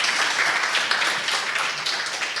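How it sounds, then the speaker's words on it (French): Dense, steady applause from a conference audience after a live demo, many hands clapping at once with no breaks. "Donc vous pouvez l'applaudir."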